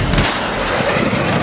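A loud, roaring VTOL aircraft engine in Call of Duty Modern Warfare, a broad close blast of jet noise with rumbling low end filling the short moment.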